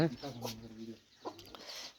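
A hen with newly hatched chicks clucks close by in a short run of throaty clucks, then quieter rustling and scattered sounds follow.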